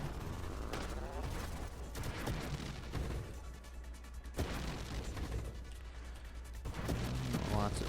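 Dense, continuous barrage of overlapping explosions and weapon fire in the space shooter game Nova Drift, loud and relentless with bursts and crashes throughout, and a voice talking over it.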